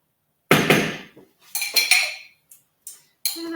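A spoon scooping mayonnaise into a bowl gives a few sharp metallic clinks and scrapes against the dish, loud and close, with short gaps of silence between them.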